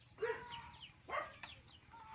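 Several free-range chickens, including a sulog-colored rooster, squabble over feed, giving two or three short squawking clucks close by against faint farmyard background, with no talk.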